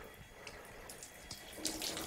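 Lukewarm water poured from the spout of a household kettle over rusty parts of an old Fiat 500 in a garage, a steady close trickle and splash running for about two seconds with brief brighter spatters, no voices.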